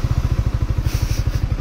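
A 2023 Yamaha R15M motorcycle engine fires up just after refuelling and settles into a fast, even putter of close, loud exhaust pulses.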